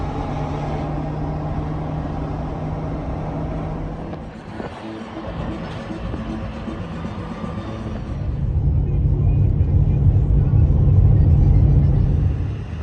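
A truck drives along the road with a steady low engine rumble and road noise, a brief dip near the middle, then a louder, heavier roar toward the end.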